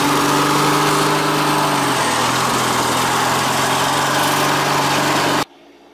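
A Craftsman LTX1000 lawn tractor's small engine runs loud and close with a steady drone and a slight shift in pitch partway through, then cuts off abruptly just before the end, leaving near silence.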